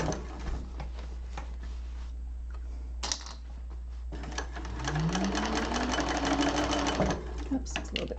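A sewing machine stitches a Hollyhock hobo bag in a class, running in short bursts and then a longer steady run, its whirring motor rising in pitch, with a voice speaking between runs.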